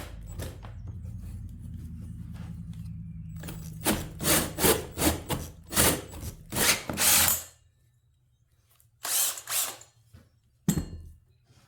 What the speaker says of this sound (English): I'm going to try it with a hole saw